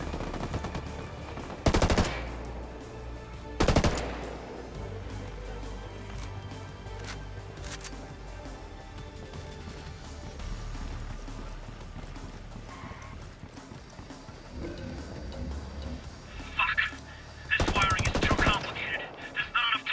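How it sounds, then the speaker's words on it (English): Gunfire crackles in Ghost Recon Wildlands as rebels and cartel trade shots, with sharp loud bursts over a steady rumble and scattered distant pops. "his brothers trading shots with the cartel"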